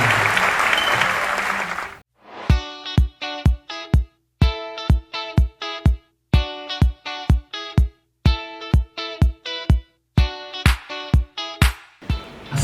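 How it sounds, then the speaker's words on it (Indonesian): A school MC class audience breaks into dense applause for about two seconds, which then gives way to a steady run of sharp, ringing, tonal percussive hits. "Tepuk tangan untuk kalian semua."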